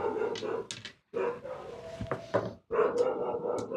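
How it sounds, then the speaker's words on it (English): Small dogs yap and bark in short bursts beside a craps table, with several quick sharp barks and a whimper between them. The barking sounds fairly close, and a faint murmur of voices sits underneath. "Those dogs will not stop yapping."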